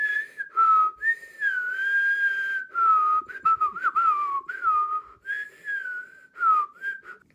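Continuous whistling sustained through both inhaled and exhaled breath: a clear, loud solo melodic whistle with gliding pitch, broken only by short breaks between phrases, no talking.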